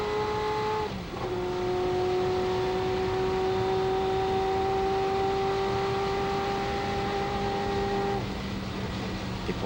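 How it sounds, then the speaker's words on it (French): Engine of the Ferrari F40 LM race car at Le Mans heard onboard, a loud steady high-pitched drone held at speed, with a quick gear change early on and a drop in tone near the end. "nous voici à bord de la voiture de Michel Ferté, la Ferrari F40 LM"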